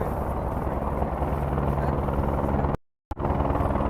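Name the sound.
helicopter landing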